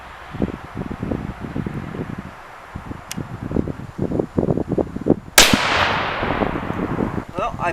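A single sharp 6.5 Creedmoor rifle shot firing a 142-grain SMK test load cracks out loud and close, with a long decaying echo after it, while people talk in the moments before.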